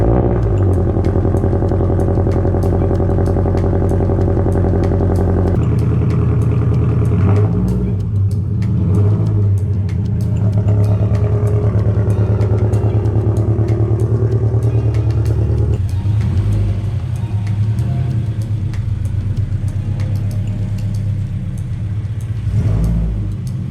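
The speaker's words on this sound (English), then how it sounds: "let's go ahead and get the car pulled back into the garage now." A car fitted with homemade exhaust silencers pulls into a garage, its engine idling close and loud with a deep steady rumble, revving and shifting pitch as it creeps forward and settles.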